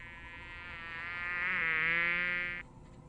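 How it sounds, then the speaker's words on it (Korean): A mosquito whines close to the ear, a thin, steady high buzz that swells louder for a couple of seconds and then cuts off abruptly. "자신이 귓가에서 앵앵내드는 모기 때문에 잠을 잘 수 없게 된 것"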